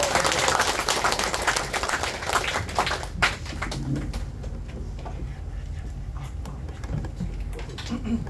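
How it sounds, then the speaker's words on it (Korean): An audience at a crypto business seminar applauds to welcome a lecturer, loud dense clapping at first that thins out and fades into scattered claps and low room noise. "우리와 같은 큰 박수로 모시겠습니다."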